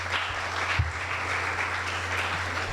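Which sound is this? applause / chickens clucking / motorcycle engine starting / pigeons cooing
applause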